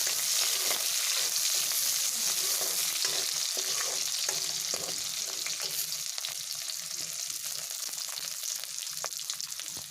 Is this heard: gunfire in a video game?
no